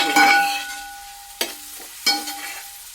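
A spoon stirs softened onions and masala frying in a metal pan, making a few distinct scraping strokes with a faint ringing tone, close and clear over a low sizzle.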